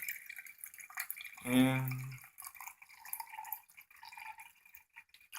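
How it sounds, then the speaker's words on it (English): Water poured into a container in a single short burst of a second or so, with a rising gurgling fill, then quiet room sound and faint talk. "So now we will start pouring the water. As you hear the water pouring"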